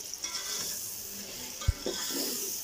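Yogurt being stirred into yakhni pulao in a pot, a soft continuous sizzle with a single knock of a spoon on the pot and light scraping, no talking.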